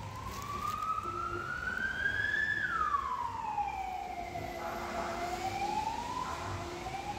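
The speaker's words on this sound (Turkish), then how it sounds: "Polis arabası geçiyor." Police car siren, on a Dacia police car, passing by in the street, a single wailing tone rising and then falling as it goes past, moderately loud over a steady traffic hum.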